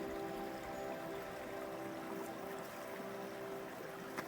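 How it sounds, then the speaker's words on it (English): A small creek with ice in it flows steadily at a campsite, its soft continuous rush and trickle lasting throughout, fairly quiet and close with no voices. "it's right next to this little creek. And check it out. It's flowing, but it's got ice in it."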